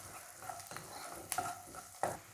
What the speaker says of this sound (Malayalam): ഉള്ളി ചേർത്ത് കൊടുക്കുന്നുണ്ട്. ചെറുങ്ങനെ കുറച്ചൊരു ബ്രൗൺ ആക്കി കൊടുക്കുക.